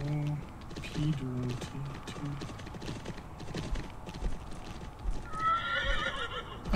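Horses in Champions of Regnum, steady clip-clop hooves at a trot with a horse neighing at the start and again near the end, all fairly faint.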